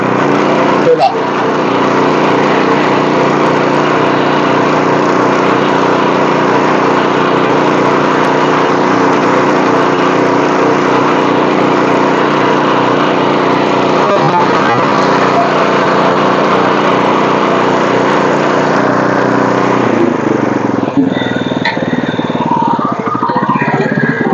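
A KSS Agro power weeder engine runs loud and steady at raised revs in second gear, a continuous buzzing drone that holds close for about twenty seconds before its tone shifts near the end.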